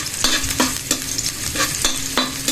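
Garlic and onion being sautéed in a pan for tinola, a steady sizzle broken by regular sharp clacks of stirring about every third of a second, close and busy.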